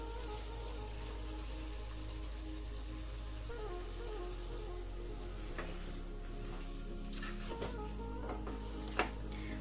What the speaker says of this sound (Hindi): अभी हम इसे हाई फ्लेम पे 2 से 3 मिनट अच्छे से भून लेंगे चलाते हुए।